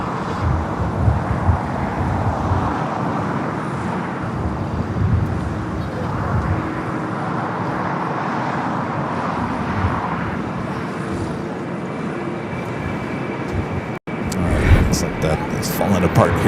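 An 11-year-old Aeromexico Boeing 737-800 arriving at LAX from Mexico City gives off a steady, moderately loud jet rumble, with a sharp dropout near the end followed by a brief burst of noise.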